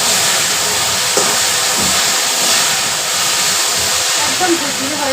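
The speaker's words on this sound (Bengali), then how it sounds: "সাইডে আমার ভেন্ডিটা ফ্রাই হয়ে আসছে" Okra (vendi) fries in a pan, giving a loud, steady sizzling hiss that runs continuously without a break.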